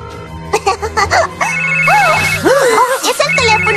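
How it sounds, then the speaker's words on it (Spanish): A cartoon telephone rings in bright repeating electronic tones, mixed with busy animated sound effects and music, fairly loud. "¿Es el teléfono de la guardiana?"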